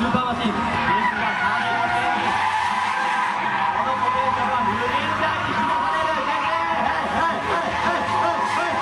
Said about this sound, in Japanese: マシンはランサーエボリューション 9GT、 いきなりぶっ飛ばしてますけれども